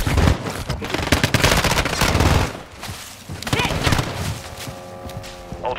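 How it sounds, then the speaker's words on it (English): Video game gunfire from a mission in Vondel, dense bursts of rapid automatic fire in several loud volleys with brief lulls between them, while a voice talks over it. "Taking effective fire."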